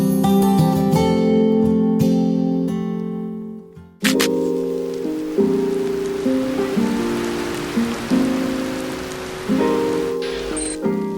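Rain falls steadily outside a restaurant, a soft continuous patter of drops heard beneath sustained musical tones.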